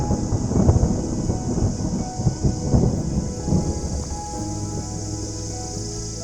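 Steady rain pours around a dense tree sheltering trekkers in the hills of Shogran, Pakistan, with deep rumbles of thunder rolling underneath the constant hiss.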